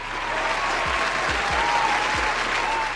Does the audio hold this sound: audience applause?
yes